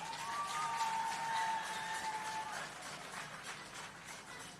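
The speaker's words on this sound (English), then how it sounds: "give the Prime Minister of Jamaica and our special guest a big round of applause" Crowd applause at an outdoor groundbreaking ceremony for the Boundbrook Urban Centre in Jamaica, greeting the Prime Minister of Jamaica; steady, fairly distant clapping with crowd noise that eases off toward the end.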